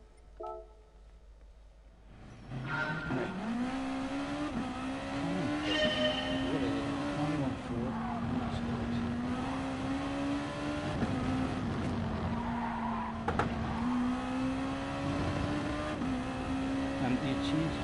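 Race car engine in Gran Turismo Sport, a steady droning whine that holds at a constant level with small pitch shifts across the clip, starting after a quiet opening and continuing alone throughout.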